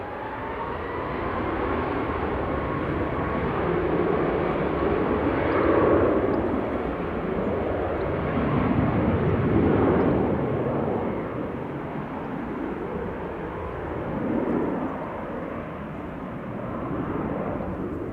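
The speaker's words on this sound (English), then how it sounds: "Seeing the A380 touching down right in front of us." A close Airbus A380 touches down at Manchester Airport with a loud, continuous broad jet roar that swells and eases in waves over nearly twenty seconds; no voices.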